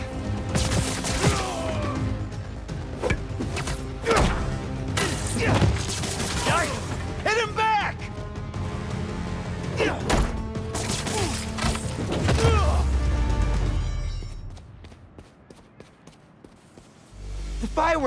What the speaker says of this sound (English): Fireworks! They're lit!